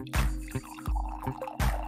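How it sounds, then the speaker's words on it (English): Fresh coffee poured into a cup, a close liquid trickle with a few dripping splashes and soft clunks, running for a couple of seconds without talk. "fresh coffee pour."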